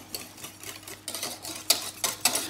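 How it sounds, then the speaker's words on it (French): A spoon stirs drained gelatine into pastry cream in a bowl for a Valentine's cake, making a steady, soft scraping and swishing with a few sharper clinks against the bowl, fairly close and with no talking. "là je mélange bien que la gélatine soit bien incorporée"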